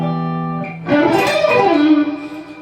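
An electric guitar plays a sustained note, then a quick sweep-picked lick rushes up and settles onto a held target note that rings out clearly on its own.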